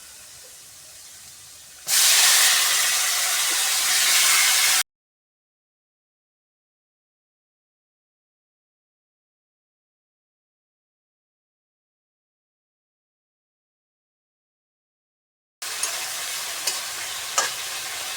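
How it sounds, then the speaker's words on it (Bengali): Fish head frying in a wok with onions, a loud hissing sizzle that surges as it goes into the oil, then a long silent gap before the frying resumes with small clicks. "এখন দিয়ে দিব আমি মাছের মাথা"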